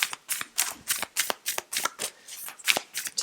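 Yogic Path Oracle cards shuffled by hand in a quick, regular rhythm of about a dozen riffling bursts, crisp and close with no voices.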